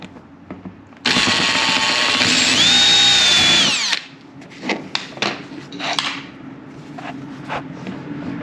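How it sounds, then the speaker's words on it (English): A power drill whines loudly for about three seconds, pitch shifting as it drills out a metal rivet on a 2018 Jeep Grand Cherokee, then stops, followed by clinks and rattling of tools. "See if we can get on in there and try to drill him out."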